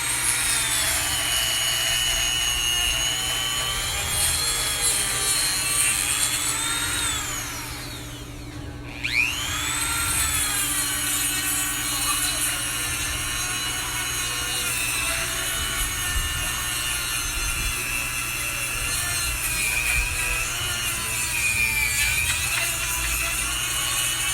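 A Dremel rotary tool carving a mold for an imitation wrought iron fence gives a steady high-pitched whine with shifting tones. It dips briefly near the middle, then runs on continuously and close.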